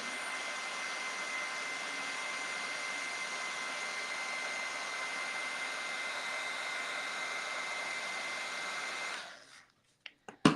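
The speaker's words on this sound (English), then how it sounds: "I'm going to take my heat tool and I'm going to heat it from the center out" A heat tool warms embossing powder on a card, making a steady, even blowing whir that runs for about nine seconds. It cuts off at the end and a few light clicks follow.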